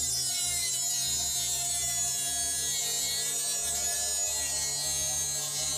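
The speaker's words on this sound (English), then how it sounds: "I'm just going to go ahead and use a cutting disc, get in this tight area here to cut this area out" A Dremel rotary tool fitted with a cutting disc cuts into a PC case panel, giving a loud, steady high-pitched whine with a droning buzz underneath. The tone wavers slightly as the disc bites into the metal.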